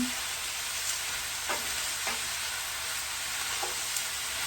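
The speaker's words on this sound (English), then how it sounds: "we're going to just give it a little stir here" Mushrooms fry in melted coconut oil on high heat, giving a steady close sizzle with a few soft stirring scrapes and taps, no talk.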